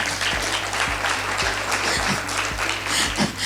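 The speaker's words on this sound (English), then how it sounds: "It deserves an applause." Delegates at the B20 South Africa business summit on global health applaud, a close, even patter of clapping laid over a low, regularly pulsing background beat.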